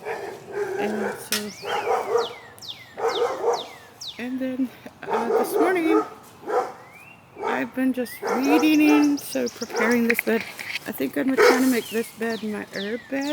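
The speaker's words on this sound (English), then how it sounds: "Pardon the dog, he's going crazy, probably over a cat." A dog barks excitedly and repeatedly in a garden, loud and fairly close, in bursts with yips among them, while a person talks over it and birds are faintly audible.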